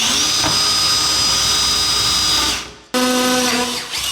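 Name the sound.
power drill boring a pilot hole with a 4mm bit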